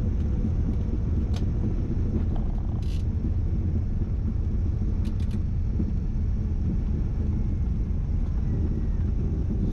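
A twin Cessna rolls down the runway after landing, a steady low rumble of engine and tyres running the whole time with a few faint higher clicks.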